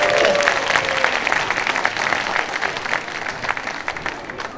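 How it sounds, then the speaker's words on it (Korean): Festival audience applauding at an outdoor Ukrainian performance at the Itaewon Global Village Festival in Seoul, a steady wash of many hands clapping close and loud, with a brief tonal sound at the start. "여러분, 다시 한번 뜨거운 박수 부탁드립니다."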